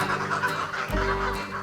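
Geese on a countryside goose farm in the Dordogne, France, give soft honks and calls from a noisy flock at moderate distance, with a low rumble underneath.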